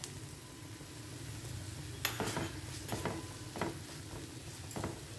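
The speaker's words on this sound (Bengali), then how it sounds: "এবার এটা দিয়ে আমাদের একটু কষিয়ে নিতে হবে।" Onion and ginger garlic paste being stir-fried in a pan for an egg pepper fry: a soft, continuous sizzle with several distinct spatula scrapes and knocks in the second half, close and fairly quiet.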